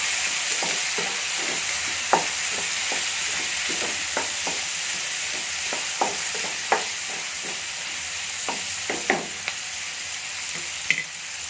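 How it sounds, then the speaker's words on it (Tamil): Chopped tomatoes sautéing and being stirred in an oily pan for Chettinad kadamba chutney, a steady close sizzle broken by frequent sharp scrapes and taps of a spoon against the pan, with no talking. "தக்காளி சேர்த்து நல்லா அதை மிக்ஸ் பண்ணிக்கலாம்"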